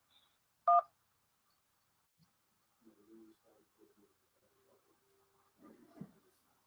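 A single loud, short telephone keypad beep from pressing 1 to accept a call-in line, followed by faint, scattered background murmurs and a brief voice near the end.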